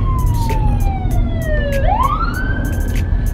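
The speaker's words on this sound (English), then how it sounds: "Hear them sirens" Ambulance siren sweeping down then back up in a wailing tone, clear and moderately near, with a steady road rumble underneath.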